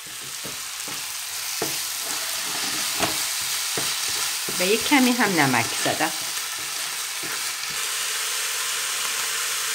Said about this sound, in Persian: پیاز سیر رو سرخ کردیم، الان گوشت دارم بهش اضافه میکنم